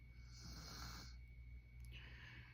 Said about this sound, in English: I'm sorry if y'all hear my kids snoring and stuff in the background